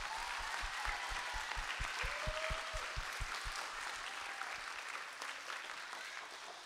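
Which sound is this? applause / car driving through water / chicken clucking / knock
applause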